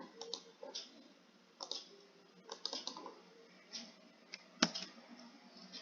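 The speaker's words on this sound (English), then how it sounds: "Click on apply button here." Faint, sporadic computer mouse clicks and keyboard tapping at a PC, scattered clicks with one sharper click near the end, thin and quiet.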